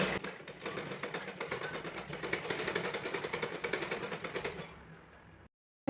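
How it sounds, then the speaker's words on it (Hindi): Sewing machine stitching lace onto a blouse, a steady rapid mechanical chatter of needle strokes running continuously for about five seconds, then cutting off abruptly into silence. "अब हमें इस पर लेस स्टिच करना है, तो अभी हम लेस स्टिच करके आपको दिखाते हैं।"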